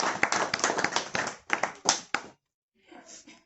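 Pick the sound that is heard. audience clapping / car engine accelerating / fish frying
audience clapping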